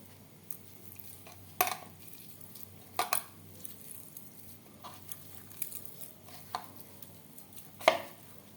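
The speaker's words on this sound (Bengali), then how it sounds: "এভাবে আলু মেখে নেব" Boiled potatoes are mashed by hand in a bowl with an omelette, heard as faint soft squelches and a few sharper taps against the bowl at irregular intervals over a quiet background.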